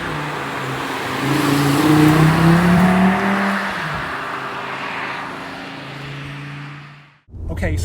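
An Audi RS3 engine pulling hard under acceleration in dynamic mode, a loud rising drone that swells, holds for several seconds, then cuts off abruptly.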